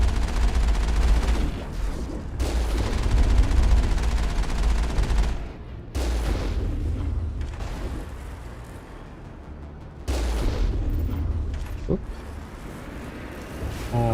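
Enemy gunfire in the video game Mass Effect, dense bursts of loud rapid shots over a heavy low rumble, continuing in long stretches with brief breaks, and a voice talking over part of it.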